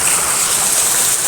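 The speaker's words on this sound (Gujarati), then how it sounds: "કેવો વરસાદ વરસે છે રહ્યો અને નદી ફૂલ ચાલે છે રી નદી" Heavy monsoon rain falls while a swollen river rushes through a village in Kutch's Vagad region. A dense, loud, unbroken hiss of rain and flowing water is heard.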